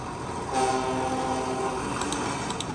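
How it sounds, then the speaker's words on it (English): A Thomas and Friends diesel engine sounds its electric horn, a steady tonal blare held for about a second over rumbling rail noise, followed by a few quick clanks. "And diesel engines sound their electric horns."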